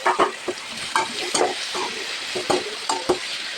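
A tomato sautéing in a pan, with a soft sizzle under repeated scraping strokes of a spoon, irregular and close by.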